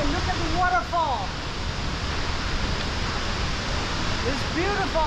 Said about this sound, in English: Okay, look at the waterfall.